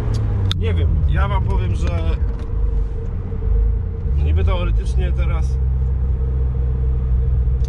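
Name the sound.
car engine revving with pedal floored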